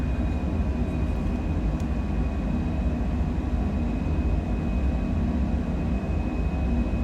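Citation Longitude jet engines roar steadily at takeoff power in Microsoft Flight Simulator, a dense, unbroken rumble with a faint high whine running through, loud and constant.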